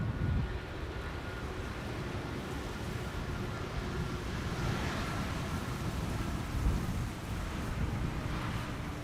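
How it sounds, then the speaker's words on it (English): An Air France Bombardier C-Series 300 landing at Amsterdam Schiphol beside the runway, a low, steady engine rumble mixed with wind buffeting on the microphone, moderately loud and unbroken throughout. "Air France, Bombardier C-Series 300 arriving from Paris"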